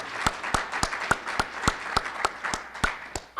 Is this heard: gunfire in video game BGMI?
no